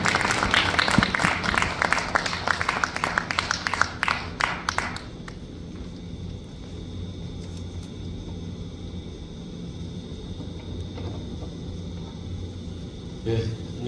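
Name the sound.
applause welcoming a speaker at a prayer meeting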